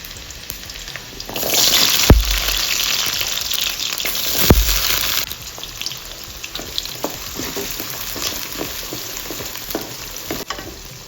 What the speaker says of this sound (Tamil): இப்போ வெங்காயமும் பூண்டும் நல்லா வதங்கிடுச்சு